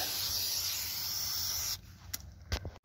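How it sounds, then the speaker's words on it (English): A steady, loud aerosol spray of Fluid Film undercoating hisses for almost two seconds onto a truck's rockers and underside, then stops, followed by a few short bursts and faint clatter. "I spray the rockers anyway, but get all up in there and spray all that."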